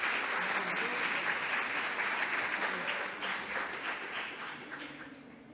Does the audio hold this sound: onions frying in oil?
no